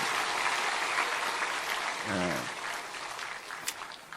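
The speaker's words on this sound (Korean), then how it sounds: "자, 박수해 주세요." Congregation applause at a Sunday church service fills the room as a steady wash of many hands clapping, with a voice briefly heard partway through before the clapping gradually thins toward the end.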